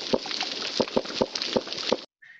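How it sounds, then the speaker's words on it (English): Underwater, a reef croaker fish makes a series of sharp, hollow knocks, about seven of them, irregularly spaced against a crackling reef background. "There's also this one made by a fish called the reef croaker."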